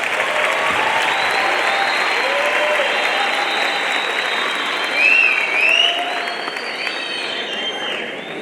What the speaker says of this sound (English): So I believe he needs a much louder round of applause.